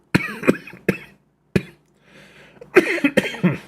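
A person coughs repeatedly in short, sharp bursts close to the microphone, with a brief quiet pause midway and some throat-clearing before a final cluster of harsher coughs.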